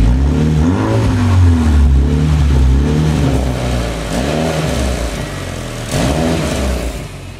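A Mini Clubman Cooper S revs with its exhaust valve open, giving a loud, close, throaty engine note that rises and falls in several repeated blips over a steady idle.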